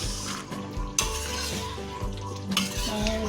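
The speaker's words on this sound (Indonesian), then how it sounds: "Aduk terus" Chicken and jackfruit rendang being stirred in a pan, with a spoon scraping and clinking against the metal over a steady close sizzle of the simmering sauce.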